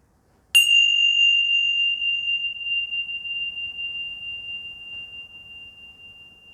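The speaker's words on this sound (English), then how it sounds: "Follow the sound of the bell all the way back to the stillness and bliss that you are." One strike of a meditation bell, sharp at the onset and then a pure sustained tone that rings on and gradually fades, close and alone in a quiet room.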